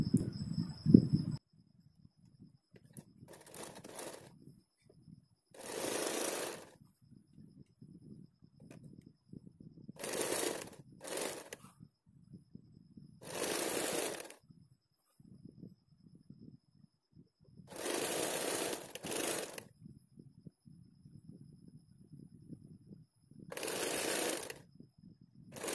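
Sewing machine stitching a house coat, running in six or seven short bursts of a few seconds each, separated by quiet pauses with faint handling of fabric; no talking.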